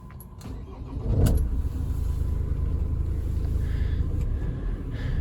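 The engine of a 2009 Ford Transit recovery truck, a 59-reg van with 19,000 miles, starts straight up with a quick catch, then settles into a steady close rumbling idle.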